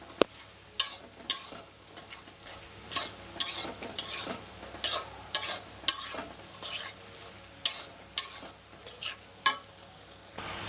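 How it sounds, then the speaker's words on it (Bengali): A spatula repeatedly stirring a pan of vegetables with coriander leaves over a soft fry, rhythmic scraping strokes every second or so above a low sizzle, close up with no talking. "যে ধনিয়া পাতাগুলো এখন ভালো করে নেড়ে চেড়ে নেব"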